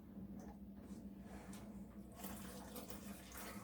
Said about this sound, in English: So then we're going to put 6 cups of warm water in there.